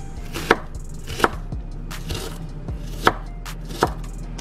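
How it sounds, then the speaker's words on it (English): A knife chops onions on a cutting board in a home kitchen, with about six sharp, separate thuds spaced roughly evenly over a low background hum. "we're gonna cut these onions"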